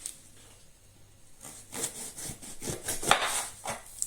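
Knife cutting the stem cap off a bell pepper on a cutting board: a quiet start, then a run of short, rasping, crunchy slicing strokes that grow a little louder and sharper near the end, close and without voices.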